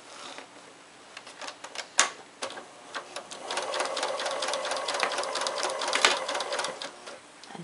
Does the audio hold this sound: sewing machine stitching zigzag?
yes